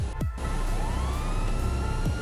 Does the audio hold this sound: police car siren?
yes